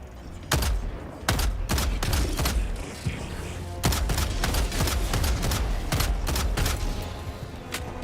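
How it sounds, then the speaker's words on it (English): Enemy rockets and heavy weapons fire in the video game Helldivers II: a rapid series of sharp, loud blasts and booming thuds in irregular bursts, with dense rumbling between the shots. "those rockets they fire are really dangerous"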